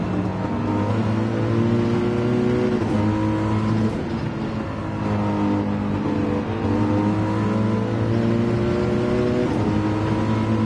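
A loud, continuous race car engine in a video game, a Gr.3 class car, drones and revs, rising and falling in pitch as gears shift, with no voices.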